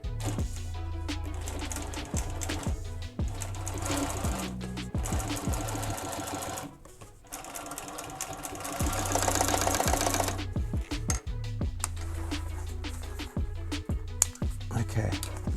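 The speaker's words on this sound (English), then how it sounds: "I'm only going to do one top sew on these." A sewing machine top-stitches car seat upholstery for an old-school Cutlass, running in loud rapid mechanical bursts with brief pauses, and someone talks over parts of it.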